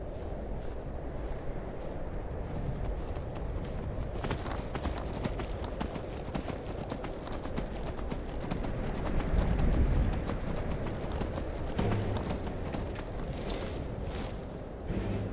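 Horse hooves clip-clopping in the video game Skyrim, a steady rhythmic trot close by with light wind noise behind.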